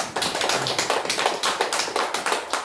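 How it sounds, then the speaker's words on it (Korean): An audience of elderly attendees at a church recovery gathering claps together, a steady, dense patter of hands that carries on without pause from start to finish. "박수 한번."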